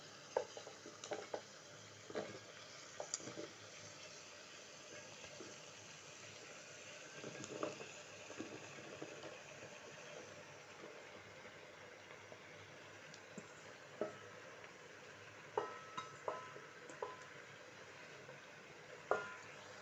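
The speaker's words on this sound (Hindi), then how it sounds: "लहसुन फ्राई हो गया, इसकी स्मेल निकल गई है। अब इसमें ये तोरियां डालनी है।" Zucchini frying with garlic in a pan, stirred with soft scraping knocks over a steady low sizzle, moderately close with no talking.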